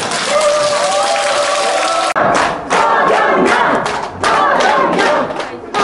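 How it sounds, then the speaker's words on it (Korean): Lecture audience claps and cheers loudly, with shouting voices and a dense crowd roar, broken by brief dips and renewed bursts of applause and thumps. "박수를 안 쳐주면 강의를 안 하려고 하는데 마침 치니까"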